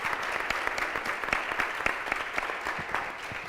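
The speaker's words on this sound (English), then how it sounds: "I will ask for you a huge applause for these amazing speakers." Audience applauding speakers at a European democracy coalition forum, a steady dense patter of many hands clapping throughout the room, fairly distant and even with no voices over it.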